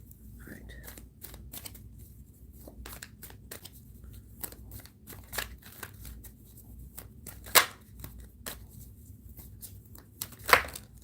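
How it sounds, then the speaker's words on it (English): A deck of cards being shuffled during a live spirit-message reading, heard as a run of close, crisp riffling flicks and snaps with a few louder slaps, faint background murmur underneath. "Shuffling the cards."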